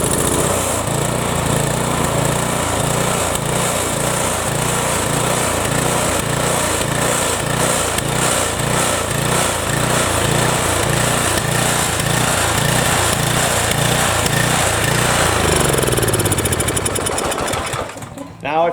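A racing Briggs small engine runs loud and close, a steady rhythmic chugging with the governor surging slightly, before it cuts off abruptly near the end.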